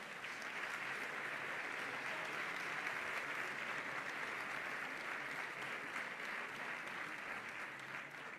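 Steady, dense applause fills a hall at a 2022 sports gala in Béjar as an award winner named Guillermo is honoured, a continuous wash of clapping with no voices standing out.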